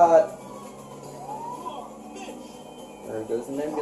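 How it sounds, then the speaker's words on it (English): An ambulance siren wails faintly in GTA 5 traffic as it passes, its pitch sweeping briefly over a quiet, low background. "There goes an ambulance."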